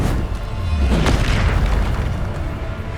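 A deep, booming explosion from the Bombarder spell in the video game Hogwarts Legacy swells and rolls away in a long, rumbling tail, loud and steady with no talk.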